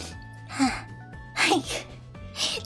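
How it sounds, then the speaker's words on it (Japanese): Several short, sharp sneezes spaced out over a couple of seconds, close to the microphone, with a faint voice around them. "くしゃみしちゃった"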